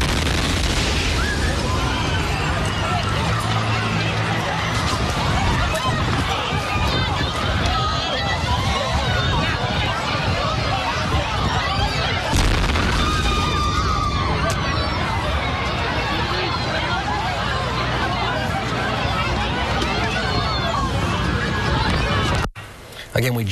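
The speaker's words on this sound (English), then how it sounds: "the sound you're about to hear of the first explosion and then the second, exactly 10 seconds later, are jarring" Bomb explosions at the Boston Marathon caught on amateur video: loud, dense crowd noise and shouting run throughout, with blasts buried in the chaotic roar. People yell and talk constantly.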